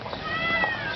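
A cat gives one drawn-out, wavering meow, close and fairly loud, lasting about a second.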